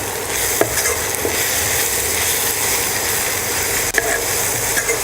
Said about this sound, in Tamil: இப்போ அதையும் அந்த எண்ணெயில் நல்லா ஃப்ரை பண்ணிடலாம்.